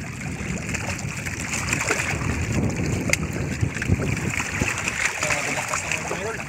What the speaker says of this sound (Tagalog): Hangin mga kaidol.